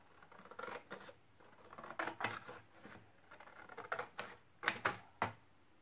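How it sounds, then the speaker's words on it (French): Scissors snip through small fabric and paper pouches in a series of quick, crisp cuts, close and fairly quiet, with short pauses between bursts of snipping. "donc on va découper les petites pochettes"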